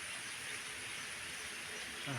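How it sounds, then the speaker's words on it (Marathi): Heavy monsoon rain falls steadily across a cashew orchard in a hilly Konkan village, a dense, even hiss that fills the whole clip without letting up. "पाऊस आलाय."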